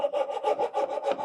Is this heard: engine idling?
no